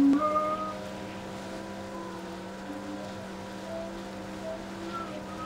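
A motorboat engine hums steadily in Far Cry 4, a constant droning tone at moderate level, running alone without talk.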